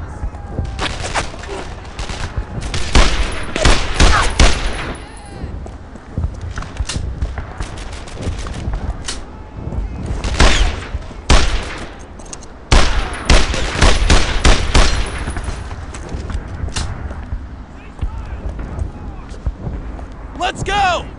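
Gunfire and grenade blasts in the World War II shooter Brothers in Arms: Earned in Blood, with dense bursts of rifle and machine-gun fire and heavy explosive thuds repeating across the clip, loud and close, under soldiers shouting.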